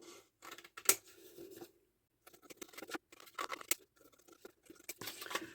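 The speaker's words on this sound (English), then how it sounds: "use my scissors" Scissors snip through a book page in short bursts of crisp cutting and rustling paper, close and quiet, with brief pauses between the cuts.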